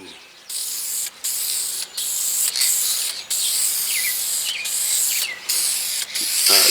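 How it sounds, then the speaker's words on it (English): Aerosol spray can hissing out a coat of textured-effect engine paint on an MK4 Golf engine part outdoors, in a series of close, steady bursts separated by brief pauses, the last few spitting slightly. "Kind of hate when the can is spitting,"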